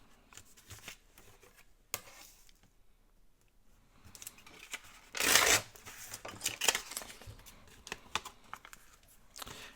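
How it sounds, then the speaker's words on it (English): Paper being torn for handmade journals: quiet rustling and handling noises build to one loud, close rip midway, followed by softer crinkles and taps. "I'm going to tear them about the same"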